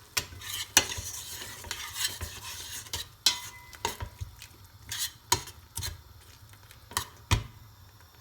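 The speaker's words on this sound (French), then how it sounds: "Je laisse cuire un peu pour éviter l'acidité du concentré de tomate." Tomato paste cooking in a pot for chorba gives a soft, steady sizzle, broken by repeated sharp scrapes and clinks as a utensil stirs against the pot, close up and with no one talking.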